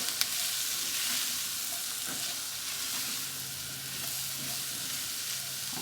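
Flour cooks in a pan on medium-low heat for a chicken pot pie roux, a soft, even sizzle with occasional stirring scrapes, fairly quiet and close, no voices.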